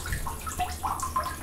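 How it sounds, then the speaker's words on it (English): Ice water sloshes and splashes in a filled bathtub, a soft continuous burble with a few small drips and ripples, close and fairly quiet. "This is the water."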